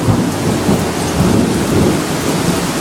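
A close lightning strike sets off loud, rumbling thunder amid heavy rain, with a dense roar that holds steady for a few seconds and no voices.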